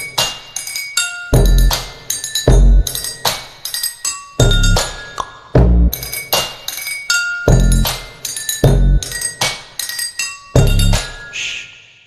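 Drinking glasses struck and clinking in a musical pattern, sharp bright chimes with ringing tails arriving in rhythmic bursts with short pauses, loud and close with no talking.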